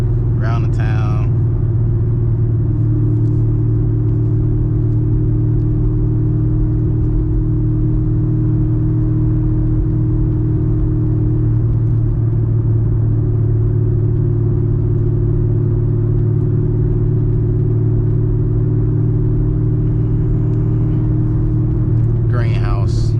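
A manual 900-horsepower Camaro ZL1 rumbles steadily while cruising through town, a continuous deep engine drone that stays heard from inside the car throughout, with no clear shifts or revs standing out.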